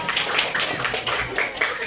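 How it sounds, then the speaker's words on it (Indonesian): Hands clapping in a classroom lesson, a steady patter of claps at moderate loudness with no talk over it. "Tepuk tangan dong buat kalian."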